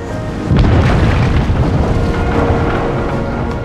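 A large explosive blast during removal of a dam on the Klamath River, a sudden deep boom that breaks in abruptly and then rolls on as a sustained heavy rumble, loud and without any voices.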